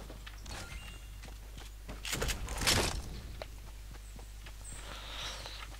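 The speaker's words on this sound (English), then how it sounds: "At least the loud footsteps work now." Footsteps in a Fortnite squad match, a quiet run of soft, irregular thuds and scuffs with a brief louder cluster in the middle, heard alone.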